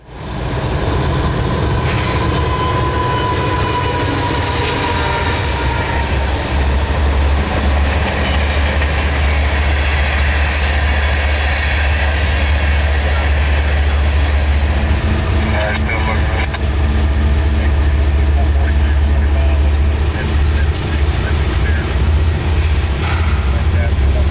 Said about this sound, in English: Q442-25 can again speed off northward